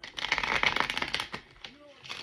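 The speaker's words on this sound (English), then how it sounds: "When I cut the deck" A tarot card deck being cut and riffle-shuffled, a quick run of crisp rapid card flutters and slaps, close and fairly loud, ending with a few softer taps.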